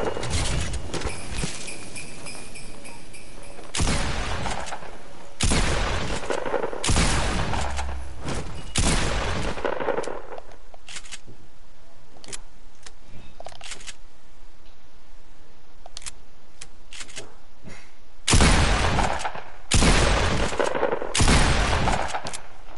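Bursts of gunfire from a shooting video game, with loud volleys of shots in clusters around 0–9 seconds and again near 18–22 seconds, separated by quieter gaps.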